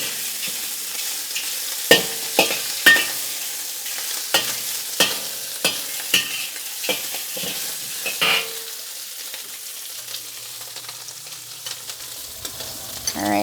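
Shrimp stir-fry in a wok for Cantonese shrimp and eggs, with a run of sharp metallic spatula clanks and scrapes over a steady sizzle, the strikes thinning out toward the end as a low hum enters.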